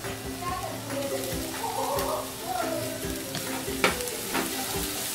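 Onion, ginger-garlic paste and green chilies fry in a pan for egg malai curry, making a steady close sizzle with intermittent spatula scrapes, while faint children's voices and a voice sound in the background.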